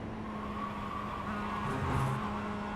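Mazda MX-5 Cup race car accelerating at VIR, with a steady engine drone and a rising tone heard from inside the car, swelling slightly near the end.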